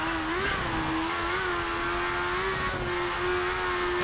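A race car engine in the video game Colin McRae: DiRT, the Pikes Peak Unlimited car, drones at high revs with a slight wavering pitch, loud and continuous with no speech.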